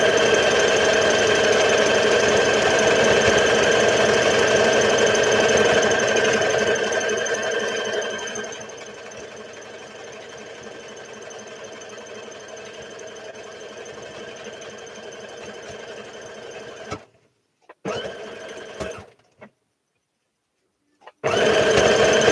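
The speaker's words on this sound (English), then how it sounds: "Maybe I'll finish sewing on the pockets." A sewing machine stitching pockets onto a Simplicity S8855 garment runs in a loud steady whir, eases to a lower hum midway, then stops and restarts in short bursts near the end.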